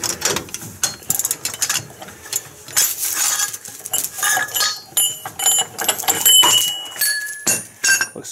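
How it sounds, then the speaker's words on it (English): A ball joint press clamp on a Chevrolet Silverado or GMC Sierra front suspension is released, giving a run of sharp metallic clinks, ratchet-like ticks and scraping close by, with no talking. "Now I'm just going to release the clamp and we'll see how we did."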